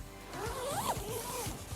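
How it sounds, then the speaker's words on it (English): A backpacking tent door zipper on an ALPS Mountaineering budget tent being pulled closed in one continuous, close, rasping zip lasting under two seconds. "zip it all up"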